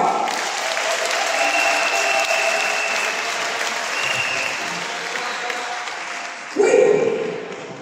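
A church congregation applauds and cheers the John Wesley liturgical choir on its 20th anniversary of consecration, a dense, steady wash of clapping that swells briefly louder near the end.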